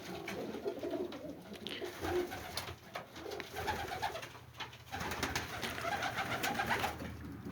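Racing pigeons coo softly and repeatedly in low, rolling calls, several birds overlapping at moderate distance with a faint background hum.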